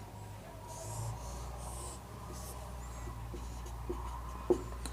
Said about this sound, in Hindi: तो मैं यहाँ लिख देता हूँ